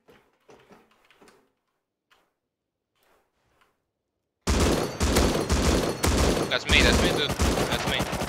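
Gunfire during a raid in the Rust video game. Faint scattered speech and clicks come first, then dense rapid shots burst in loudly and continue as a sustained, rattling volley to the end.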